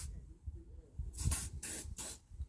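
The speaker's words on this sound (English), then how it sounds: "I'm just going to give the seal a bit of a spray." Three short hissing bursts of a silicone spray aerosol can onto a window seal, close up, separated by brief pauses against a quiet, faintly rumbling background.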